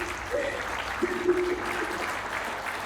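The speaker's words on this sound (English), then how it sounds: "you really need to applaud the community here because it's pretty outstanding" Audience applause at a leadership summit, a steady wash of clapping from a crowd lasting throughout, with a brief tonal sound near the start and some faint voices mixed in.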